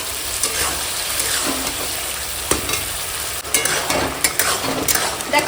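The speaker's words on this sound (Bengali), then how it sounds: "এখন দিয়ে দেব চিনি কাজু কিশমিশ দিয়ে টমেটোর চাটনি দেখো" Tomato chutney with sugar, cashews and raisins sizzles steadily in a pan, a loud, continuous frying hiss broken by occasional scrapes and taps of a stirring spoon.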